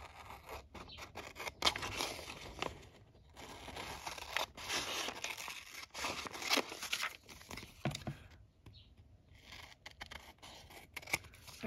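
Scissors trim a cutout from a glossy magazine page in a series of close, crisp snips, with paper rustling and crinkling between the irregular cuts, quiet and without talk.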